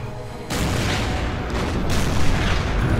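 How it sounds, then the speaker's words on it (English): Naval gunfire during an Order of Battle Operation Torch battle, French ships firing on a destroyer: a loud, sustained rumble of booming shots and bursts begins abruptly and continues without pause, dense and close. "French are shooting at the destroyer, no effect."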